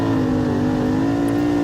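Race car engine at Eagle Raceway heard from inside the car, a loud steady droning roar holding a near-constant pitch with a slight rise, close and alone.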